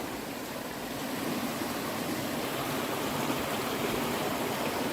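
A river flows near a creek on the Appalachian Trail, making a constant broad rushing wash of water that swells slightly after the first second and stays close and even throughout.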